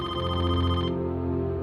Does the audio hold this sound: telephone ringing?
yes